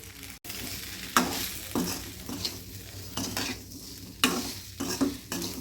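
Idli podi being stirred into a dish frying in a pan: steady close sizzling under repeated scraping strokes of a spoon against the pan, with no talking.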